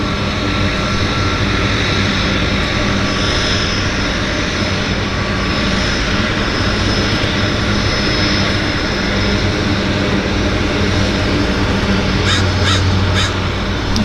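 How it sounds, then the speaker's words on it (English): Crows caw repeatedly at a downtown harbour airport, their calls riding over a steady drone of aircraft engines and floatplane activity, with a cluster of sharper caws near the end. "Lots of crowing about."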